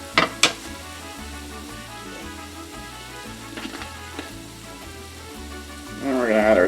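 Ground beef frying in a pan for a burrito filling gives a steady crackling sizzle with scattered pops and occasional clinks, rising to a louder, denser hiss near the end.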